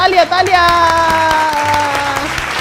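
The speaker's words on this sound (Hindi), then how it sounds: "एक बार तालियां बजा दो अपने तालियां बजा दो एक बार" A group claps hands in a short burst of rapid, overlapping claps, set against loud tonal music and voices.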